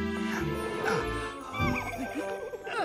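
A cartoon horse called Blue Horsey lets out a lively, wavering whinny, with several rising and falling neighs over light jingling and a soft backing score.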